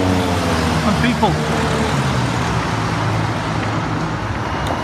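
Steady, loud traffic noise fills a busy city junction shared by trams, buses, cars, mopeds and bicycles, with a continuous engine rumble and someone speaking over it.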